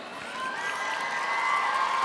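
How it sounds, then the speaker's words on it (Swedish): A studio audience at the Idol Sverige 2014 final on TV4 breaks into applause and cheers, swelling to a loud, sustained roar with whistle-like shrieks over two seconds. "Ge en varm applåd."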